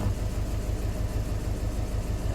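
A car engine idling steadily at close range, with a low, even rumble and a faint regular pulse that holds constant throughout, no voices over it.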